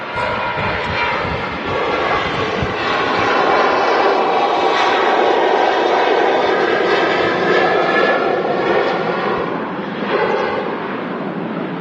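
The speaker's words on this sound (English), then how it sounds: "a Loganair Embraer 145 with no Shortbread Airlines tail on. That's on final approach." A Loganair Embraer 145 jet roars loudly and steadily on final approach, its engine noise filling the air close by and holding strong throughout with a slight swell midway.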